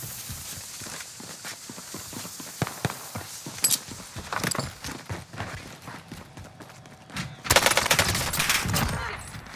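Gunfire in the video game Warzone, with scattered single shots and short bursts at irregular intervals, some near and some more distant, building to a louder cluster of fire near the end amid game ambience.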